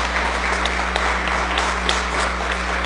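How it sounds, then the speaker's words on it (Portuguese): Audience applause for a guest named Sangão at a seminar on public drug policy, a steady wash of clapping from a crowd filling a hall over a low electrical hum. "eu peço uma salva de palmas a Sangão por vir de tão longe"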